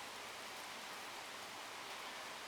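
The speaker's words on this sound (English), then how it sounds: "Here comes the rain." Steady rain pours during a thunderstorm in Charlotte, North Carolina, a dense, even hiss of falling water with no break, heard alone at moderate volume.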